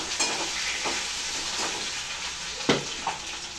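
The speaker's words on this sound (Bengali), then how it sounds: "আলুটা ভাজা ভাজা হয়ে গেছে, লাল লাল হয়ে।" Potatoes frying in a pan, a steady close sizzle with a few soft scraping stirs and light clinks scattered through it, moderately loud and with no talking.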